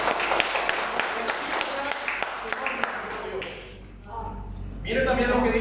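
A church congregation claps for several seconds in a busy patter of hands that fades, after which voices and room noise rise again.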